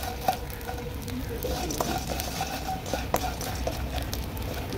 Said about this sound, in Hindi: इसी तरह हम सारी चीज़ों को फ्राई कर लेंगे।